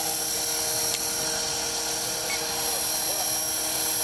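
A 450-size RC helicopter flies nearby with a steady high-pitched electric whine and rotor buzz, continuous and fairly loud, with a voice talking over it.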